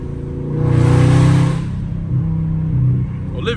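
A car revs hard on a wet road in the rain with its wheels spinning, a loud, close engine roar swelling, easing and climbing again, with voices talking over it.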